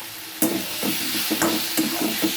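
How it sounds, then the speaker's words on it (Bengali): Ground cumin masala being sautéed and stirred in a pan for a Bengali fish-head muri ghonto, with a soft sizzle and repeated scraping stirs in a steady rhythm, close and alone. "মশলাটা কষাচ্ছি।"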